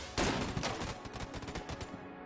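A charged weapon fires in the video game Enter the Gungeon, a sharp burst with a rattling, rapid tail of repeated shots that trails off over a couple of seconds.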